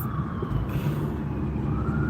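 Siren of an ambulance on a city street, sounding loud and steady as it passes close by, with traffic rumble underneath.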